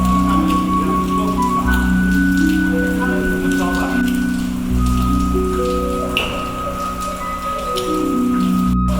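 Rain falls steadily on the old Xianshen Tower temple building in Jiexiu, Shanxi, a dense continuous patter and hiss with a faint tonal hum running underneath, and no clear speech.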